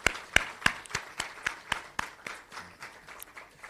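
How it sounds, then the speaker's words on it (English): Sparse clapping at a United Nations Jamaica national youth dialogue in honour of the Minister, a handful of distinct, fairly close hand claps at an uneven pace that grow fainter and fade out. "Let's all give the Minister a well-deserved round of applause."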